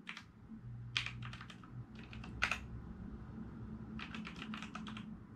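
Keys clack on a Wyse-60 video terminal keyboard in short bursts of quick strokes with pauses between them, close and fairly quiet over a low steady hum.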